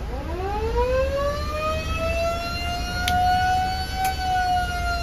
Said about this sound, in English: Second switch right here is for the air siren. Let me play it for you.